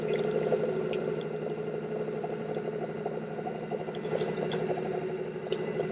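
Water splashes and trickles steadily onto a spinning pottery wheel head while clay is coned and centred, a continuous wet swishing over a low motor hum, close and fairly even throughout.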